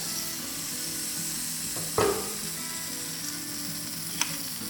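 Tandoori chicken fries under a fully covered pan with a steady, close sizzle, broken by one sharp clack near the middle and a faint tap toward the end; no voices.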